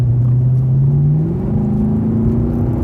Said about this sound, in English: V8 motor, you can't beat it.